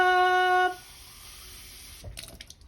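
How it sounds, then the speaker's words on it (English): Tap water runs steadily into a bottle in a home kitchen, a smooth hiss for over a second after a brief tone, ending with a few close knocks and splashes. "Let's get some water. Pull it up."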